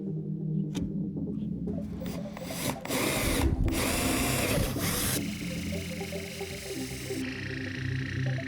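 A power tool cuts holes into a veneered kitchen panel in a Toyota Hilux camper, a steady close buzzing whine that carries on for several seconds and shifts in pitch and loudness as the cut goes on.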